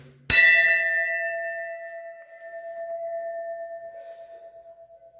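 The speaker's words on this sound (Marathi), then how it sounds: "घंटा वाजूया." A temple bell in a Marathi goddess shrine at Alibag struck once, giving a bright metallic clang that rings on with a long, slowly fading hum and pulsing overtones.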